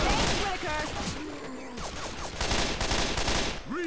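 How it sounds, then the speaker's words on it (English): Loud explosions from a fired missile and gunfire in Left 4 Dead 2 crackle in rapid bursts while excited voices shout over the chaos. "He fired a missile!"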